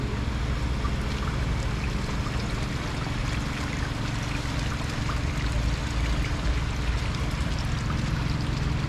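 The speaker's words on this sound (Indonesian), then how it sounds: "Ini pompa untuk air sirkulasi." A water pump circulating river water at a groundwater well-drilling site runs with a steady rushing, splashing flow, loud and continuous, with no talk.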